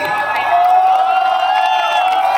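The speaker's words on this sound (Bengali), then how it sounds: "ও এই তো, একটা জোরে হাততালি।" An audience at a live concert in 2025 makes a loud, close wash of crowd noise with cheering and applause. The sound holds steady for a couple of seconds and is dense with many voices.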